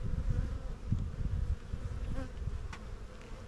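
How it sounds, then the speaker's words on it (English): A dense, healthy honeybee swarm being transferred into a new hive box, producing a steady, close, continuous buzzing hum with no voices over it. "Yeah, boy, this is a healthy swarm here."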